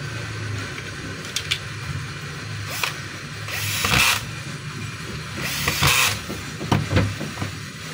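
DeWalt DW4010T 4-inch angle grinder being test-run, its motor whine rising in two longer bursts over a steady hum, with a few sharp clicks between runs; fairly close and no talk.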